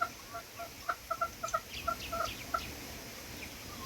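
Several chickens cluck in a quick, irregular series of short calls in a backyard in Australia, moderately close, then trail off into quiet rustling.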